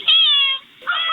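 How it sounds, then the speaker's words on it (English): Cat meowing on a home porch, picked up by a Ring doorbell camera: two loud, close, drawn-out meows with a short gap between, harsh and irritated in tone. "This one to me is funny because the cat sounds pissed."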